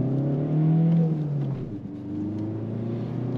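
A used Seat Leon diesel car accelerates from inside the cabin, a steady low engine drone that rises in pitch and then settles, with no talking.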